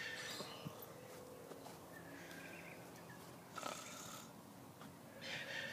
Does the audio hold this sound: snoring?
yes